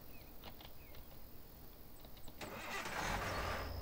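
A car engine in the video game Thief Simulator rumbles to life after faint clicks, the start swelling louder over the last second, with a steady low idle close by.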